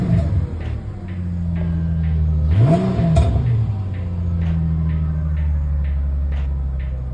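Car engine revving before a cold air intake is installed, idling with a steady low rumble and then one rising-and-falling rev in the middle, loud and close, with light ticking in the background.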